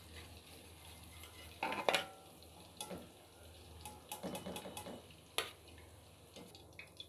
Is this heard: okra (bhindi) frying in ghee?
yes